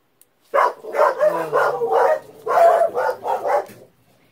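Dogs barking indoors at people outside, a loud run of about a dozen sharp barks in two bursts with a brief gap, close by and with no talk over them.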